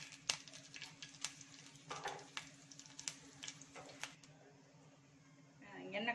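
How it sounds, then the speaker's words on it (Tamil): A cinnamon stick and two cloves hit hot oil for a Tamil-style scrambled egg chicken, giving sharp crackles and pops that thin to a quiet sizzle, with a faint voice near the end. "எண்ணெய் காஞ்ச உடனே 1 பட்டை 2 லவங்கம் போட்டுக்கணும்."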